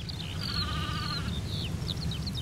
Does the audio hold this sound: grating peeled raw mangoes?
no